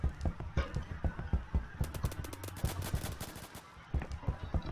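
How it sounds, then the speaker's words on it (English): Rapid gunfire in a video game, including an MP5, crackles in quick bursts and single shots, fairly faint and slightly distant, with no one talking over it. "all those shots are behind him"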